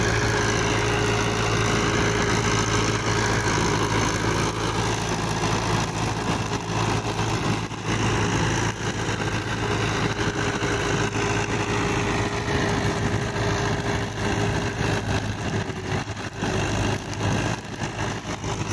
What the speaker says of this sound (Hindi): यह ट्रैक्टर अभी 3rd के लो में चल रहा है।